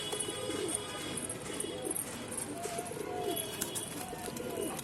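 Pigeons coo softly in a loft, low murmuring calls repeating over faint background noise, with no voices.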